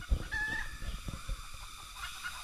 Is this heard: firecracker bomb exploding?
no